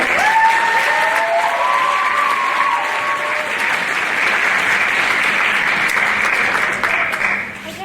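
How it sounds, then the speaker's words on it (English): The crowd at the Mr Hoosac 2022 high school show keeps up loud, sustained clapping for stage manager April Cantoni, with a few whoops early on, then tapers off near the end. "Keep that applause going for April."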